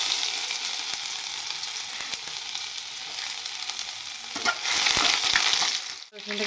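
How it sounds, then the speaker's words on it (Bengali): Chopped ginger and garlic sizzle steadily in hot oil in a wok, a dense crackling hiss that swells louder near the end, with a brief clatter of stirring. "কড়াইটা আমার গরম হয়ে গেছে। আমি প্রথমে দিয়ে দিচ্ছি"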